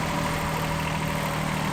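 A late-1980s Japanese Mitsubishi MT165 compact tractor engine runs at a working day, giving a steady, close, even mechanical drone with no variation over the short stretch.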